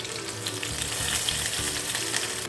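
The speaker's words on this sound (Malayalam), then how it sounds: "ഈ മീൻ വറുത്ത എണ്ണയിൽ തന്നെ നമുക്ക് ഈ ഇൻഗ്രീഡിയൻസ് നമുക്കൊന്ന് ഫ്രൈ ചെയ്തെടുക്കാം" Ingredients sizzle and crackle in the hot oil left from frying karimeen fish, a dense, steady frying hiss with faint stirring scrapes, close and without voices.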